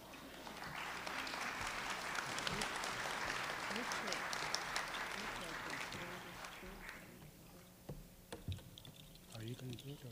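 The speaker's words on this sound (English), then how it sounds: "I'd like to ask you guys to give them a round of applause for a job well done." An audience at a Tlingit dance performance gives a round of applause, clapping building to a full wash and then thinning into scattered claps, with some talk and background noise.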